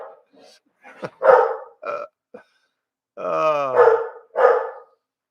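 Dogs barking and growling in short bursts, with a longer warbling howl-like call in the middle, loud and close with silent gaps between them and no talk over them.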